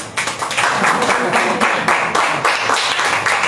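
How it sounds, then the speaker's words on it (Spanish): Applause after a talk at a panel discussion on memories of a youth social uprising, many hands clapping at close range, strong and rhythmic with slight surges, filling the room with a murmur of voices beneath. "Aplausos"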